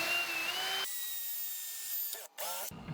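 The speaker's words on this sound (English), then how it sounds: "I'm going to pre-drill into the panel to put a couple screws" A power drill bores pilot holes into a metal electrical subpanel for mounting screws. It gives a loud, high whine lasting under a second, then a second longer run with a brief stop and restart near the end.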